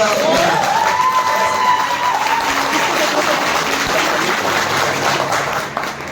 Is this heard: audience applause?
yes